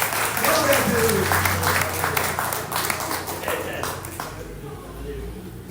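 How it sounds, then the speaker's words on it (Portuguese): Applause breaks out from a congregation at a family church service, loud at first, then gradually thinning and fading toward the end, with voices calling out beneath the clapping. "Uma salva de palmas para Jesus!"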